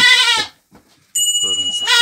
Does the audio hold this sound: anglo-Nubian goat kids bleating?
yes